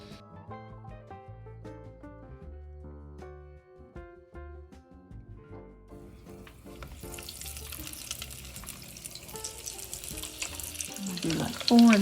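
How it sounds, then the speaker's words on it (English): Breaded deviled eggs lowered into hot oil for deep frying, a steady sizzling hiss swelling in the second half after quieter kitchen sounds and a spoken voice. "And then we'll fry them."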